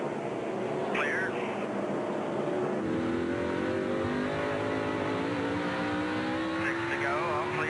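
NASCAR stock cars race at Martinsville in the 2003 Virginia 500, engines roaring and rising in pitch as they accelerate out of a turn, loud and sustained beneath a commentator's voice and crowd noise.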